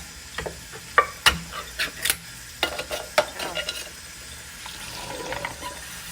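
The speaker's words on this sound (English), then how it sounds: "she's pouring them in the strainer because we want to rinse the beans" Canned chickpeas poured into a strainer and rinsed with water, a string of close splashy thumps and rattles followed by a softer trickling wash.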